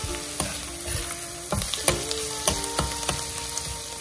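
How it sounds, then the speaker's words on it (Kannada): Ginger and garlic fry in a pan with a steady, quiet sizzle, punctuated by sharp scraping taps of a spoon stirring at irregular intervals, with no voices. "ಜಿಂಜರ್ ಮತ್ತು ಗಾರ್ಲಿಕ್ ಚೆನ್ನಾಗಿ ಈ ಹೊತ್ತಿನಲ್ಲಿ ಇದಾಗಿದೆ ಅಂತ ಒಳ್ಳೆ ಫ್ರೈ ಆಗಿದೆ"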